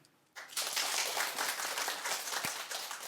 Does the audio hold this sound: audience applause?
yes